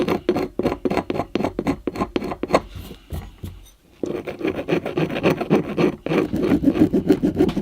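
Hand files rasping over a cast temple model in fast steady strokes, close and clear, with a short pause before the rhythmic scraping resumes.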